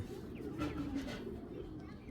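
Pigeons coo faintly in low, murmuring phrases under quiet background noise.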